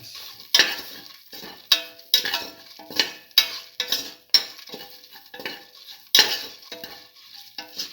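Spices and other ingredients for a cinnamon mung bean rice bowl are stirred in a pan: rhythmic spoon scrapes and clinks repeat about every half second over a soft, close sizzle, with no voices.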